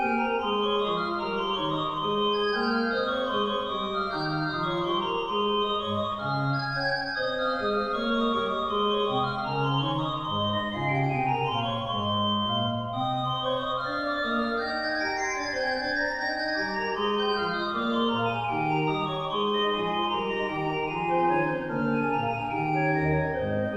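Schnitger pipe organ in Uithuizen, a North German Baroque instrument, playing a Pachelbel partita on flute stops at 8, 4 and 1.5 feet in the Hauptwerk, giving a bright, spiky tone; steady, moving contrapuntal lines fill the room without pause.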